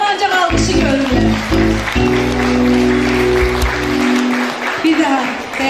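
Audience applause at a diploma presentation during a words-and-music evening, a broad wash of clapping sustained throughout while musical tones and voices carry over it.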